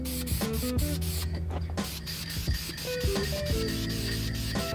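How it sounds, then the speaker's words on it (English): A spray can applying Dupli-Color clear top coat to a coil, giving loud hissing bursts that start and stop repeatedly at close range. "This is clear top coat by Dupli Color"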